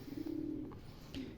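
A pigeon coos nearby, a soft, low, throaty rolling call followed by a shorter second coo about half a second later, against quiet background noise.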